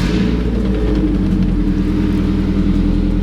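A turbocharged 8th-gen Honda Civic engine runs steadily just after its first start, with a loud close low idle rumble and a faint whir over it, and no speech.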